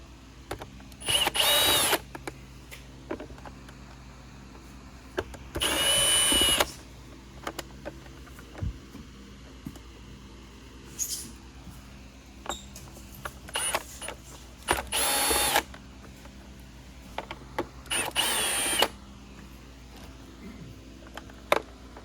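Power drill backing screws out of the motor cover on a Hoover Commercial Insight vacuum, a series of short loud whirring bursts spaced several seconds apart with quiet handling noise between.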